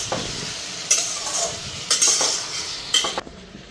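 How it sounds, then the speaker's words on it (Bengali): A spoon stirring curry in a pan, with a soft continuous sizzle and a few distinct metallic scrapes and clinks against the pan, close up. "তো ওইদিকে তরকারিটা একটু লাড়া দেওয়া দিই"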